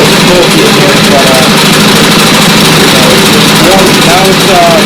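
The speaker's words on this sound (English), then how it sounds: "now it's been running for about a minute. Idling fine. It revs nicely." A Honda clone small engine fitted with an eBay carburetor idles up close, a loud, steady, even chugging drone with a faint mechanical rattle running throughout.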